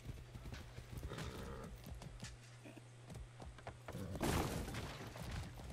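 Horse hooves clip-clopping in the Far Cry 6 video game, a quick irregular run of hoof knocks at close range over a low rumble, building slightly louder toward the end.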